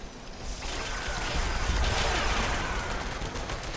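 The Pepper Shaker gun in Fallout 76 fires a sustained, gritty burst of shots that swells in the middle and stays dense and fairly loud from start to finish.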